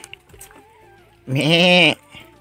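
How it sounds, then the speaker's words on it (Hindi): A goat at a hillside farm in Uttarakhand gives one loud, close, wavering bleat lasting under a second, after faint background sounds. "और हमारी बकरियाँ यहाँ पे"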